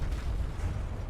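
A flak cannon fires at incoming missiles during a naval battle in the game From the Depths, giving one short, dull, booming burst.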